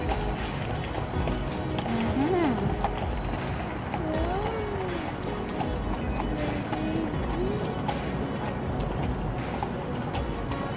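Horse hooves clip-clopping steadily as a horse pulls a Christmas carriage on a holiday ride at a library, with a continuous bed of background noise and voices talking over it throughout.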